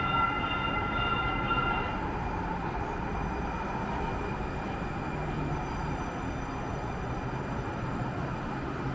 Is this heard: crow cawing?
no